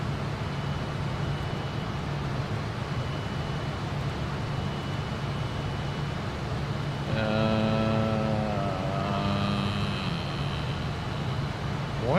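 Jet engines of a Fokker F28 regional airliner in a Microsoft Flight Simulator 2024 session hum as a steady, even drone throughout, and a short sequence of electronic tones sounds partway through.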